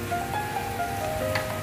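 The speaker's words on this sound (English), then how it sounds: "Let's add the water" Water poured into a pot of Arabic-style saffron rice seasoned with salt, a steady close splashing trickle with a faint tonal ring, continuous for the short stretch.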